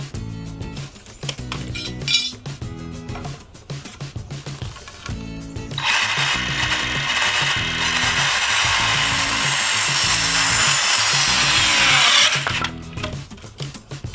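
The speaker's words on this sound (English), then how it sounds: "It's a little 12-volt Milwaukee saw." A small 12-volt Milwaukee cordless saw cuts through a piece of scrap 2x4 wood, a loud, steady buzzing run of about six seconds following clinking and handling sounds, with no talk.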